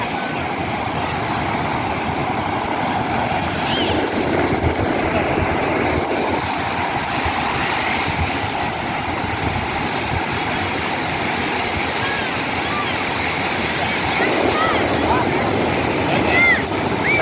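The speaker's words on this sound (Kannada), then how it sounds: "ಅಲೆಗಳು ಮಸ್ತ್ ಬರತ್ತಾವು ಸಮೀಪ" Sea waves break close by on a shore, a loud, continuous roaring wash that swells and rolls without pause, with voices heard faintly under it.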